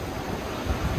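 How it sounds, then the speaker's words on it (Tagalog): Strong, bitterly cold wind blows outdoors in Edmonton, Canada, buffeting the microphone with a loud, constant roar and no voices. "Grabe yung hangin guys, ang lakas. Napakalamig."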